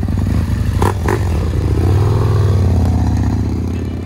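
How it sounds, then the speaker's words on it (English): A Husqvarna motorcycle engine rumbles loudly close by, a deep throbbing idle with a brief rise in revs and some mechanical clatter. "giving this motorcycle one of the best soundtracks in history"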